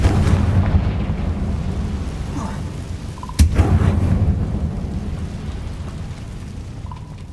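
Confringo blasting spell in the Hogwarts Legacy video game, a deep rumbling roar with a sharp crack midway, loud and continuous beneath a booming low-frequency tail.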